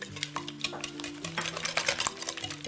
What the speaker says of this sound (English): we're going to whisk this